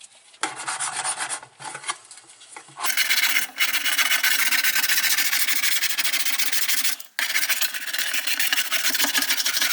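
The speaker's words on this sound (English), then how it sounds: "And we'll scrape along the bottom." Tool scraping along the bottom of a washing machine in harsh, gritty strokes, loud and close, with short pauses between passes.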